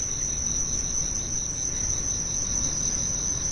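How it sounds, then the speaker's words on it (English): Crickets chirp steadily at night under a clear sky, a high continuous trill with fast pulsing, moderately loud over a quiet outdoor background. "We can hear the crickets"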